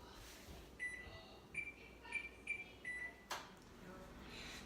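Oven control panel beeping while being set to convection at 375 degrees in a home kitchen: a series of short, sharp electronic beeps, about six spaced unevenly, close and moderately loud over quiet room noise.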